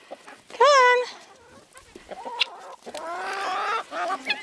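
Guinea fowl near a backyard chicken coop give loud, harsh, ratcheting calls in short bursts, one sharp cry early and a longer rattling run toward the end, with other farm-bird noises between.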